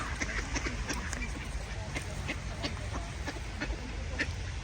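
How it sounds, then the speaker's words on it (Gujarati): Ducks on a swollen winter pond in the Czech Republic, their repeated quacks and honks scattered through a constant background hiss, with voices talking over them. "આ છે બતકો."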